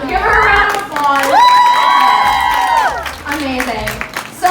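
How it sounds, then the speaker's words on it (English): A concert crowd on tour in Toronto cheers and screams loudly for several seconds, high shrieking voices rising over steady applause and shouting, fading toward the end. "Give her a round of applause."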